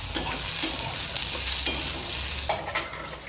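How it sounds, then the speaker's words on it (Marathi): Onions sautéing in a pan until reddish, a constant close sizzle broken by repeated scraping stirs and light clinks, with no voices. "कांदा लाल होत तोपर्यंत परतून घ्यायचा"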